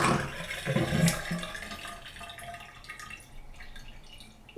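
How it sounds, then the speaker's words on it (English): Water drains and swirls down from a Glacier Bay pearl gray cultured marble vanity sink, starting as a gurgling rush that fades into quieter trickling and dripping, ending with a brief sharp knock. "Let's drain it. Is it going to swirl?"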